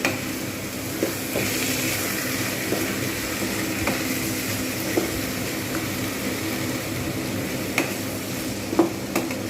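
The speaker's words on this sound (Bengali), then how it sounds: "এরকমভাবে বেশ কিছুক্ষণ ধরে কিন্তু আমি এগুলো কষতে থাকবো" Banana flower and potatoes stir-fry in a pan for Bengali mochar ghonto, with a steady close sizzle broken by light scraping stirs, no talk.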